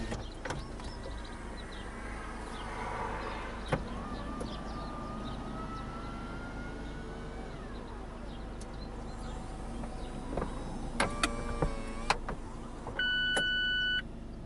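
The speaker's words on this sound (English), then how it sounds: "power that top back" A Mazda MX-5 Miata RF's power retractable hard top runs through its motorised closing cycle, whirring steadily over a low idling hum, with a few clicks and then electronic beeps when the top finishes.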